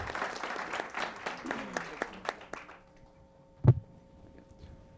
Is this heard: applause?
yes